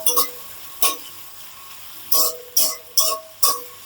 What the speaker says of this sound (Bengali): তেলটা গরম হলে আমি এর মধ্যে পেঁয়াজগুলো দিয়ে দিচ্ছি। পেঁয়াজ একটু মোটা মোটা করেই কেটে নিতে হয় বলেছে। পেঁয়াজ দিয়ে এবার একটু নাড়াচাড়া করে নিচ্ছি।